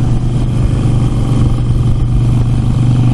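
Harley Sportster Iron 883 motorcycle accelerating on the road, a loud, steady low engine rumble with wind noise, continuous and close, with no talk.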